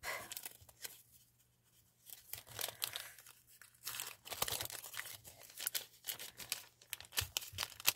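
Paper and plastic packaging of an advent calendar box crinkling, crumpling and tearing in close bursts as it is opened, with quieter pauses between handling sounds.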